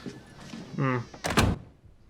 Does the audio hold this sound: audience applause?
no